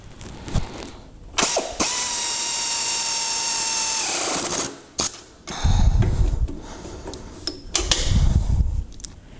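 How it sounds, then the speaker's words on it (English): Nuts on a brake master cylinder mounting are tightened, with close, loud mechanical ratcheting and whirring in several sustained runs, separated by short pauses and sharp clicks. "Now all we need to do is tighten all of the nuts that we've put on by hand."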